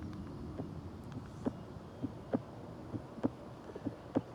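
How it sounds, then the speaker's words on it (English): A recorded heartbeat sleep sound: a steady run of soft, evenly spaced low thumps over a faint, constant hum, quiet and unaccompanied by talk. "And one I don't like is heartbeat."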